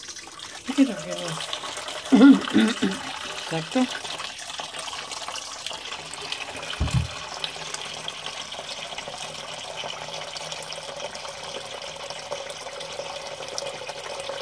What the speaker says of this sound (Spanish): Ahora voy a tirar el agua y voy a volver a llenar de agua limpia